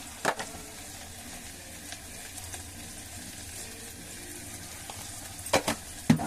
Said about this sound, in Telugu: వేగుతోంది, ఇంకాస్త వేగాలి